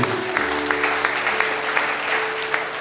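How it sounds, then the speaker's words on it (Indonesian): A congregation at a Christmas church service claps for Jesus, a dense burst of applause with regular rhythmic beats, fairly loud and close, lasting the whole short stretch. "Tepuk tangan bagi Tuhan Yesus."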